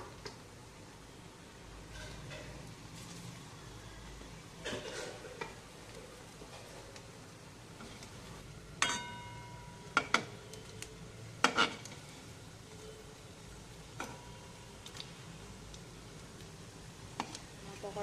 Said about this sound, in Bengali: এবার পকোড়াটা এক এক ভেজে নেব